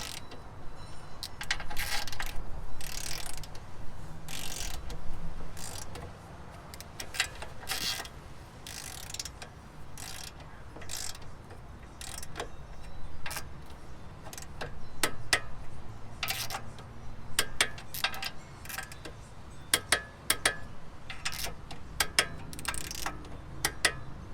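A torque wrench set to 50 tightens the 17 mm stock control arm nuts and bolts on a Hyundai Veloster N, with many close ratcheting clicks in uneven bursts and occasional metallic creaks and taps over about twenty seconds.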